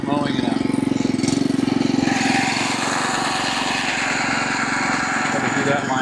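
A lawn mower engine drones steadily and loud throughout, close by, with a continuous mowing roar and no pauses.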